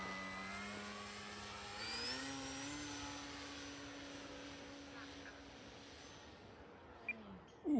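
A Timber X RC model plane on floats takes off from snow, its electric motor whining steadily and rising in pitch as it climbs, moderately near with a faint voice and wind in the background.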